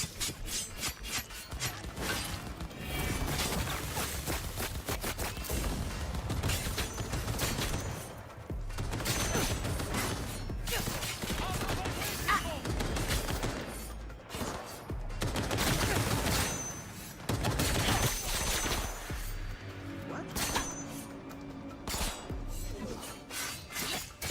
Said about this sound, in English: I just decided to open fire on this base